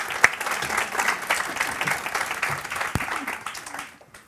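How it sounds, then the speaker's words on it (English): An audience applauds panel speakers with a dense, even patter of clapping that fades away at the end, indoors at a moderate distance. "So can we just give them all a round of applause"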